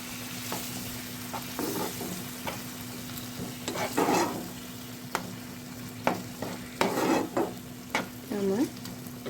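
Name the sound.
stirring chicken gravy with soy sauce and milk in pan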